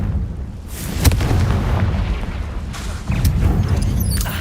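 Confringo fire spell explosions from the video game Hogwarts Legacy, with two sharp booming bursts about two seconds apart followed by rumbling, crackling debris.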